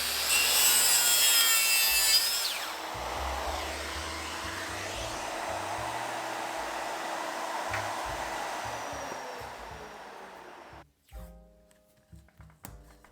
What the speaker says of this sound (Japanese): 同じサイズ、同じ幅、同じ角度で、ひたすら切っていくだけっていうね